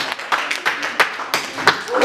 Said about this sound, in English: And I give a clap to the Lord for his word this morning.